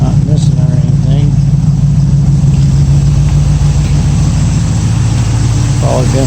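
A 1965 Ford Mustang engine with an old fan and an aluminum radiator runs at a steady, loud idle close by, with a constant drone throughout.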